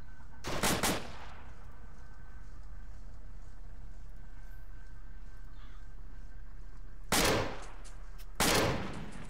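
Gunfire in Arma during Operation Takistan: a loud burst of shots at the start, then a long quiet stretch of low background rumble, then two more sharp bursts near the end, with no voices.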